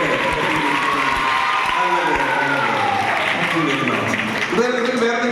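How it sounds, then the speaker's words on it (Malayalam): An audience claps at a church camp puppet show, a dense spread of hands joined by some cheering, with voices talking over it for most of the stretch. "പേര് പറയുമ്പോൾ നിങ്ങൾ ക്ലാപ്പ് ചെയ്യണം കേട്ടോ"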